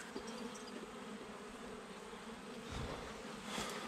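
A honeybee swarm drones in a steady, dense buzz that fills the whole stretch, with individual bees swelling louder as they pass close by and no talking.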